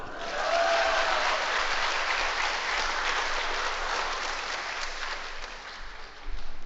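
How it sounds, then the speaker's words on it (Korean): A church congregation claps together in agreement during a pastor's talk, a steady, full round of applause that holds at an even level for several seconds before a thump near the end. "동의하는 분만 박수."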